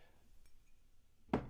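A single sharp knock as a cup of tea is put down hard on a desk, one close bang breaking an otherwise quiet room.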